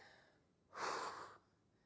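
A single deep breath during a dance warm-up class, a soft airy rush rising suddenly, holding for about half a second, then dropping away, close but quiet over faint background.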